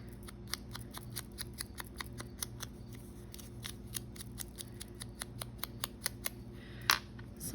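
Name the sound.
scissors cutting a small paper tag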